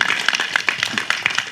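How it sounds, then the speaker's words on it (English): A small audience at a junior golf program event in Tobago claps, with sparse, distinct hand claps in an uneven rhythm, fairly close and loud. "Round of applause."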